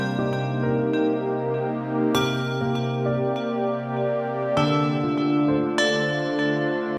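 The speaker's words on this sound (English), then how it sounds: "And I like using pads layered on the piano because it helps really fill out that harmony." Piano chords layered with soft sustained pad chords, programmed on an MPC for a modern beat, ring out steadily and change harmony every couple of seconds, with no talking.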